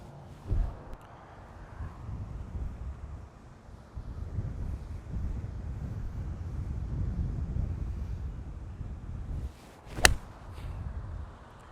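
Strong wind across a golf course buffeting the microphone in heavy gusts, rumbling low and uneven, with a sharp click near the end.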